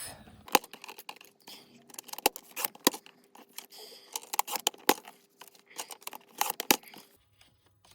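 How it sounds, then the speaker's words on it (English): Paper trimmer slicing through an embossed card panel, heard as a close, faint run of irregular crisp clicks, snips and rustles spread over several seconds, ending in near silence. "I find these trimmers leave a nice, quite a nice edge compared to a guillotine."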